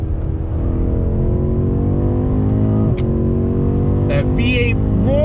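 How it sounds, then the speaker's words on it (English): A powerful twin-turbo V8 engine in a 2020 BMW M8 Gran Coupe roars steadily and loudly, with its pitch climbing through the gears. Brief chirps and squeals come near the end. "That V8 roar."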